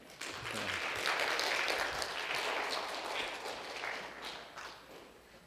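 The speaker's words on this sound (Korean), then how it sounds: "박수 한번 칠까요?" A church congregation at a Christmas Eve worship service applauds for several seconds. The clapping is moderately loud and fairly even before it tapers off.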